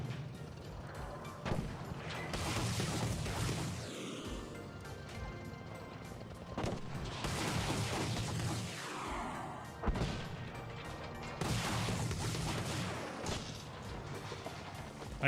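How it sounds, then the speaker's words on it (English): Tank shells fired in Battlefield 5 land as heavy booming blasts at intervals of a few seconds, echoing over continuous battlefield rumble, fairly distant and soft overall. "They got a tank firing at me."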